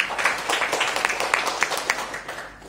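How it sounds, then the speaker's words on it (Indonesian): A church congregation claps for Jesus during a sermon, a brisk wash of many hands with sharp individual claps standing out, steady at moderate volume before tapering off at the end. "Tepuk tangan bagi Yesus."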